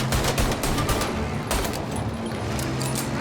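Rapid gunfire crackles in bursts during a shootout in the video game Mafia Definitive Edition, dense loud volleys over a constant low rumble.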